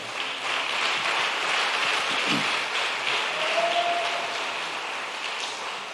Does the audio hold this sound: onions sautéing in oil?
no